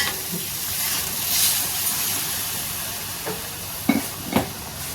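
Dal poured into frying dry vegetables and stirred, a steady close sizzle with a few clacks of the spoon against the pan toward the end.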